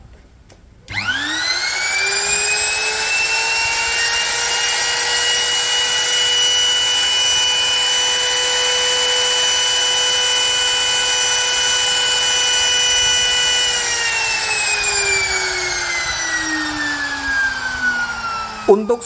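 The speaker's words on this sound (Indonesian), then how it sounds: "Untuk suara motornya sendiri sih halus ya." A DCA AMP02-6 electric wood trimmer spins up with no load, its motor whining at a steady high pitch for a long stretch, then winding down near the end, close and alone.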